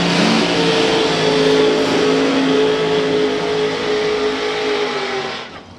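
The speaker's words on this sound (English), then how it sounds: "great burnout" A dragster performs a burnout at a drag strip, a loud, sustained roaring engine with screeching tyres close by, holding steady for several seconds before cutting away.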